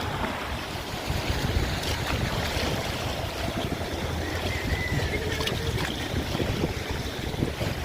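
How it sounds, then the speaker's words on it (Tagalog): Strong sea waves wash and slap against a small boat's hull continuously, with gusty wind buffeting the microphone throughout. "Malakas yung alon."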